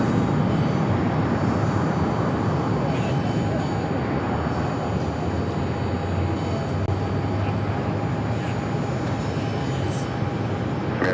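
An American Airlines A321 arriving from Los Cabos gives a steady, broadband jet roar that holds constant throughout, with a faint thin tonal whine riding above the rumble.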